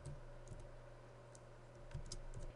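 Sparse, faint clicks of typing on a computer keyboard, a few isolated keystrokes over a quiet steady background hum.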